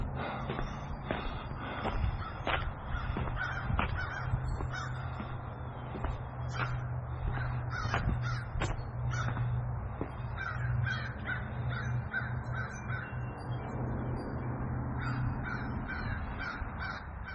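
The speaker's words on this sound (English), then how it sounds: "When's the last time you heard some crows?" Crows caw repeatedly out in the countryside, harsh calls coming in uneven bursts at moderate distance over a steady low rumble of background noise.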